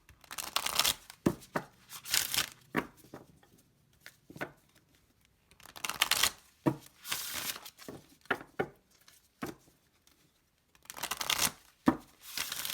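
Tarot cards being shuffled in repeated quick riffling bursts with short pauses between, close and crisp, no talking.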